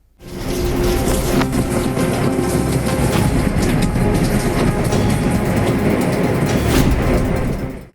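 A train runs steadily with a loco pilot driving the engine while rain falls, its broad rumble and rhythmic clatter loud and continuous from start to finish.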